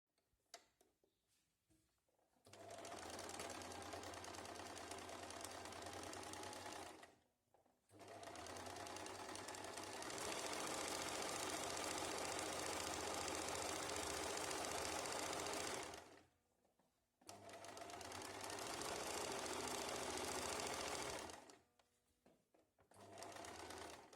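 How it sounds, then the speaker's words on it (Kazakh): An electric sewing machine stitches a pocket onto fabric in a polytechnic college sewing class, running in three long steady bursts of rapid mechanical whirring separated by brief pauses, close and alone. "Мына басынан айналдырып 1 сантиметрмен қалтаны қосып тігіп шығамыз."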